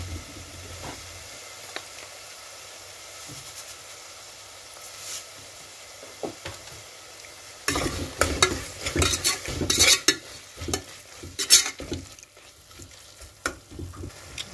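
A spoon stirs and fries ingredients for coconut milk rice, with mint and salt in the pan. The scraping is soft and sparse at first, then turns louder and busier with sizzling.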